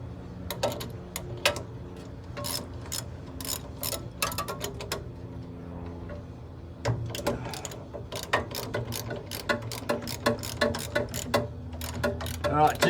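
A ratchet wrench clicks in rapid bursts while bolts are loosened to remove filters on an ice-pack unit, the clicking runs close and steady with short pauses between turns.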